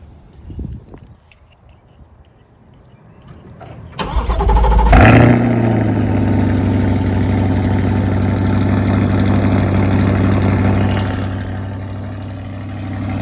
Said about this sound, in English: this is going to be your cold start video, so I would recommend turning up that volume